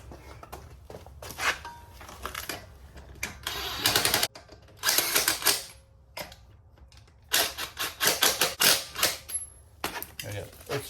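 Lug nuts being spun onto wheel studs with a power tool while mounting KMC KM237 Crawl beadlock wheels, heard as bursts of fast rattling impact-style whirring in several runs, with talk around them.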